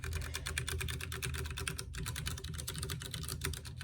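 Steady, rapid typing on a white Ducky One 2 Mini mechanical keyboard with Cherry MX Brown switches, dense overlapping key clicks close to the microphone with no talking.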